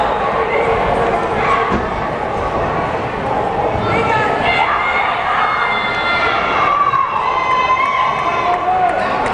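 Crowd noise at a girls' high school basketball game in a gym, a steady loud roar of cheering and shouting from the stands as an opposing player goes to the free-throw line, with a commentator talking over it.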